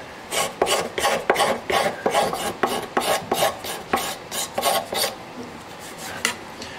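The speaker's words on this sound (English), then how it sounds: "The scraper, what it really does well is get rid of all the file marks and smooths it out" A steel scraper rasps back and forth over the wooden body of a custom 12-string Rosa dreadnought guitar, a dozen or so quick, evenly spaced scraping strokes, close and dry with no talking.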